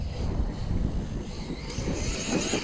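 Redcat Kaiju RC truck tearing along at full throttle, a steady broadband whine and rush of motor and tire noise that holds constant for the whole stretch, with wind buffeting the microphone.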